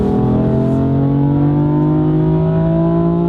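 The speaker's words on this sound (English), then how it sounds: "Third gear, full throttle." Turbocharged engine of a 2018 BMW M4 Competition F82 revs hard at full throttle in third gear, a loud, steady rising drone climbing in pitch throughout, heard from inside the car with no talking.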